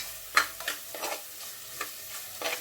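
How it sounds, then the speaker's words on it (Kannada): Tomatoes stir-fried in a pan for chicken biryani, with a soft sizzle under a series of spatula scrapes and stirring strokes at irregular intervals, close and without talk. "ಸೊ ಇವಾಗ ಟೊಮೆಟೊನು ಕೂಡ ಚೆನ್ನಾಗಿ ಫ್ರೈ ಮಾಡಿ"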